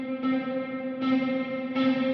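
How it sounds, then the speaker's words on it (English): Guitar notes plucked with a pick sustain through a Line 6 Helix reverb with long pre-delay. Three attacks each bloom into a smeared, ringing wash over a steady tonal hum. "you hear the delay, I pick, then there's reverb"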